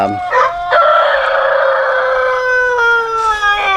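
A rooster lets out one long, loud crow close by, drawn out for several seconds with a strained, wavering tone, near Barred Rock hens at a homestead hen house.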